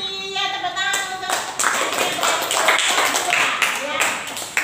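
Applause breaks out in a classroom, a burst of many hands clapping close by that continues for several seconds over a teacher's voice speaking at the start.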